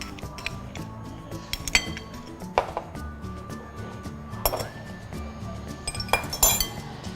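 Raw banana is mixed with turmeric, red chili powder and salt, with repeated bright clinks and knocks of a utensil against a bowl, close and irregular.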